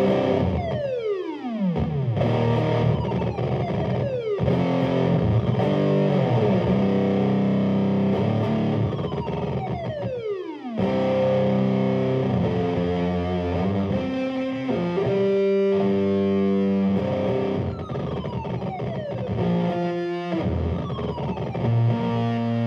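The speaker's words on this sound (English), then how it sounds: "Now here's the sound of that data corruptor pedal I was talking about." A guitar runs through a Data Corruptor effects pedal, producing heavily distorted, synth-like tones with swooping pitch glides and shifting harmonized notes, loud and sustained with no voices.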